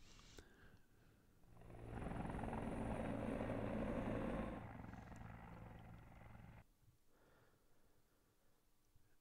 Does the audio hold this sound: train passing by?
no